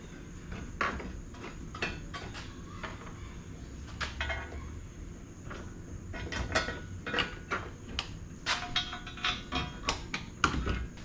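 Bolts clink and rattle while being fitted into the spare tire mount of a Ford Bronco, a series of sharp metallic clicks and taps scattered over a low background rumble, close by with no talking.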